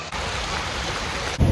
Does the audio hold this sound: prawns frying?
no